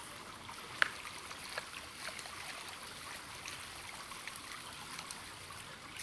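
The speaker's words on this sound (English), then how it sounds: "what I'm going to do now is I'm just going to wash these wild onions here." Wild onions being rinsed in water outdoors, a faint steady trickle and gentle splashing running throughout with one brief sharper splash near the start, no talking.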